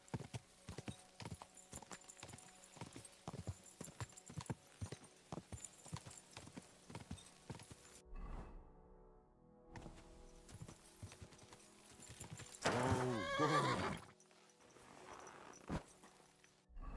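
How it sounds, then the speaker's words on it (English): Horses in Kingdom Come: Deliverance 2 clop steadily, then splash and slap through water, with a loud burst of splashing near the end and a snort or whinny, no talk over it. "I really like the way the horses sound on water. That slapping sound sounds cool though."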